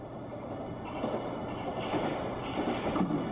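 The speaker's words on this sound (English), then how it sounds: "I hear the sound of a train." A train runs steadily in the video game Forest of the Drizzling Rain, its rumble and rattling clatter rising slightly louder toward the end, heard alone without speech.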